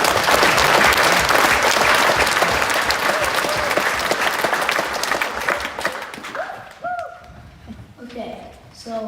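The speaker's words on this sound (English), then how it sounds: "I say we give them another round of applause" Audience applause for veterans at a school Veterans Day program, a loud full round of clapping that fades over several seconds into scattered claps and murmuring voices.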